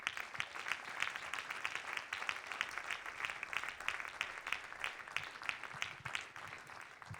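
Audience applause at a francophone conference, a steady wash of many hands clapping at moderate, fairly distant volume throughout, without a break.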